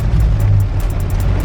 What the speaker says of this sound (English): especially this car right here just trying to hurry up